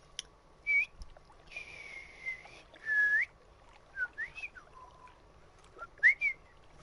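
A person whistles a string of short, sliding chirps and longer wavering notes, imitating a duck's whistling call from the game theHunter: Call of the Wild, close and clear against quiet background.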